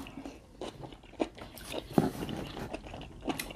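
Close, crunchy chewing of colossal shrimp at a mukbang meal, with soft repeated bites and mouth sounds at a low level and no talking.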